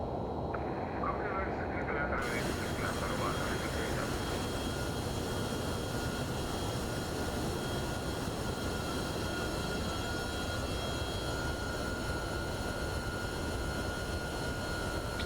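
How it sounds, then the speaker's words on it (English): MD-11 airliner in the X-Plane 12 flight simulator, a loud, steady broadband engine roar with a constant high whine running throughout. "And there you have it, the MD-11 passenger version for rotate."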